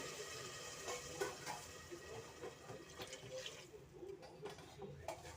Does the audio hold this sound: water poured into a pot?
yes